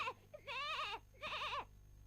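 Two wavering, nasal goat bleats sound from a cartoon, each lasting about half a second with a short gap between them, loud and close.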